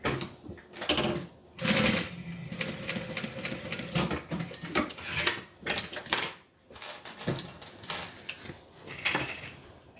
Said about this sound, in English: as I'm sewing the zipper panel on, like right here